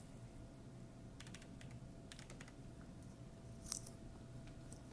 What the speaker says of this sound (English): Then we're going to type in the one-time password, 881312.